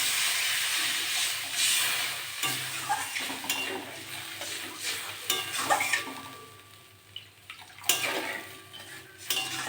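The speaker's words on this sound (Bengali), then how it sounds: "পিছনে তেল বেরিয়ে গেছে, গ্রেভিটা খুব সুন্দর হয়েছে। আমি এবার জল দিয়ে দেবো।" Water poured into a pan of simmering pangas fish curry, producing a loud sizzling hiss and steam along with clinking and scraping of a utensil against the pan, nearby and busy.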